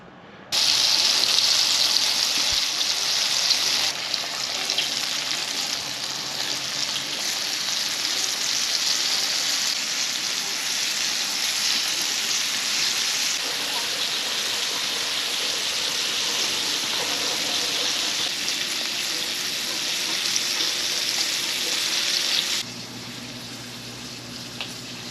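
Small butchered pike pieces coated in a dry rub sizzle and fry in a pan, making a steady bright crackle that runs unbroken before dropping off at the end.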